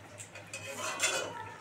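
A metal lid clatters onto a pot of fish curry with light scraping and clinking of cookware in a quiet kitchen, one brief close clank.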